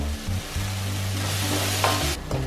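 Onions and tomatoes fry in a pan with a steady, close sizzle, stirred occasionally so the hiss rises and falls slightly, loud and continuous with no voices over it.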